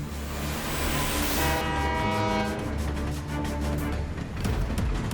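In a cartoon, a train approaches: a sustained multi-tone horn blares over heavy rumbling, then gives way to rhythmic rail clatter as it nears.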